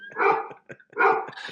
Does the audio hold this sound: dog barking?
yes